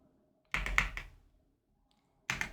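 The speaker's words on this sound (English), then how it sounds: "I'm going to type" A few keystrokes on a computer keyboard, a short cluster of three or four taps, a pause of over a second, then another quick burst, close and fairly quiet with no talking.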